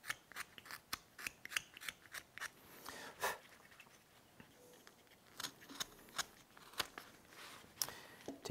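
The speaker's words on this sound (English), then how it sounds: "Taking our knife, going around the hat here." Knife carving around the hat of a wooden snowman in winter woodcarving, a close run of short scraping cuts in an irregular rhythm, crisp and fairly quiet, with a brief pause in the middle.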